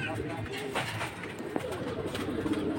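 Giribaz pigeons of old-breed bloodlines coo at a market stall, several birds making soft overlapping calls close by under steady background chatter and crowd noise.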